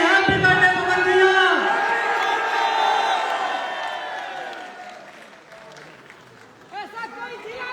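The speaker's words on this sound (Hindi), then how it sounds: "तालियां बजाइए" A crowd at Pawan Singh's birthday celebration in Lucknow claps and cheers steadily, loud and close at first and then fading, with voices and shouts mixed through it and a fresh burst near the end.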